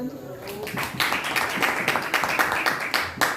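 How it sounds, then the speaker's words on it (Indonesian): Group applause for a presenting team in a classroom-style session, a brief burst of scattered hand clapping with voices talking over it. "Tepuk tangan"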